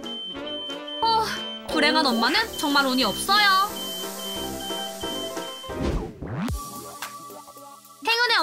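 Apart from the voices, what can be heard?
fire alarm ringing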